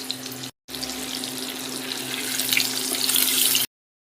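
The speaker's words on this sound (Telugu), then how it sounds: "ఎగ్స్ని యాడ్ చేసుకొని సాల్ట్, పసుపు, కారం వేసుకొని వేగనివ్వండి" Boiled eggs frying in hot oil with salt, turmeric and chili, a steady crackling sizzle at moderate level that cuts out briefly near the start, swells slightly later and then stops abruptly.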